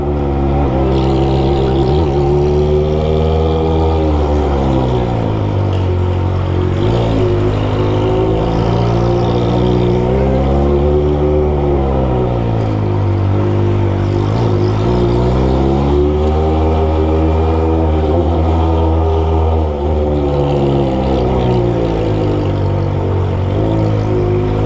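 A Kawasaki ZX25R with a Toce exhaust rides slowly through a narrow, crowded residential alley, its loud engine note rising and falling in repeated revs, close and continuous, with no talking.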